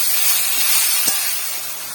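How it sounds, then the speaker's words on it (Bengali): A pumpkin-greens mixture hits a hot pan, setting off a steady, loud sizzling hiss that runs the whole time, with a brief soft thump partway through. "এবার এটা ঢেলে দেবো। ভালো করে নেড়ে নেবো।"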